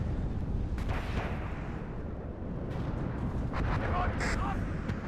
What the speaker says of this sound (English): we're going to be using artillery to try and hit the Tunguska and the BMP-3 instead.